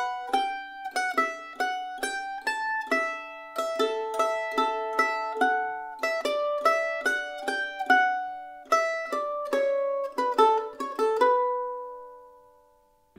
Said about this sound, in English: I play the A part for you slowly once without the double stops, so you can see how I'm doing that.